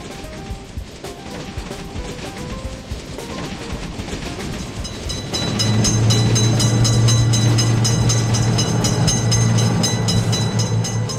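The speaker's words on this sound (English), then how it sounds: "Quick train is noticed." A quick train rushes through a railroad motor vehicle crossing, the clatter swelling into a loud, steady roar with a sustained horn-like tone and rhythmic wheel clicks, heard close with no voices.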